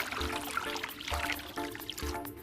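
Water poured from a kettle or jug into a cup over a green tea bag, a steady close trickle and splash running for a couple of seconds with soft low thumps.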